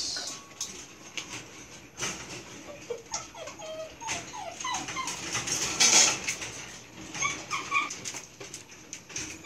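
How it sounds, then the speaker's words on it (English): Belgian Malinois puppies whimper and squeal in short, high, repeated cries at milk feeding time, close by, with soft background chatter and a bird-like chirp now and then. "Belgian Malinois puppies."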